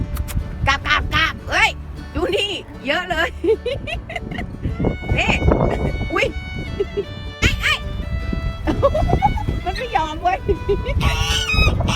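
Geese honk and quack repeatedly in a noisy cluster over food, close and loud, while a person talks over the birds in Thai.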